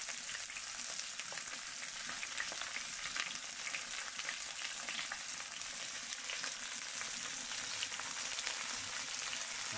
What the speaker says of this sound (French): je vais laisser dorer, bien cuire